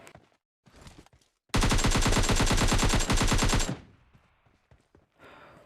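A loud, rapid burst of automatic gunfire lasting about two seconds in the mobile battle royale game PUBG Mobile Lite, framed by quieter game sounds before and after.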